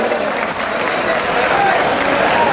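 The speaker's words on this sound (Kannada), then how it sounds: "ದಯಮಾಡಿ ರಂಗ ಕುಣಿತದ ಕಲಾವಿದರಿಗೆ ಅವರ ದೊಡ್ಡ ಚಪ್ಪಾಳೆ ಬಂಧುಗಳೇ" A crowd claps loudly and steadily for folk dance artists who won a village dance competition, a dense wash of applause throughout with a voice over it.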